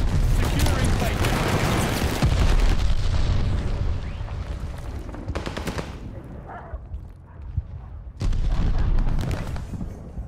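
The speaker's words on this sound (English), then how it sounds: "enemy glide bomb coming in hot" A dense run of gunfire and explosive blasts from a Call of Duty: Vanguard match, with an enemy glide bomb detonating amid continuous loud battlefield noise, a brief lull, then another heavy burst near the end.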